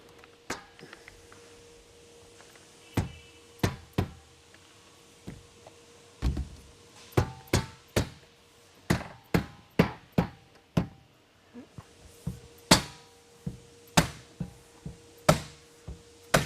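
A plastic or vinyl trim piece is pressed onto a door unit with sidelites in a workshop, giving a long series of sharp, loud snaps and knocks, irregular at first and then quicker and evenly spaced.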